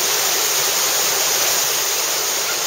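Steady, dense roar of a waterfall on a cold mountain hike in Japan, loud and continuous with no voices over it.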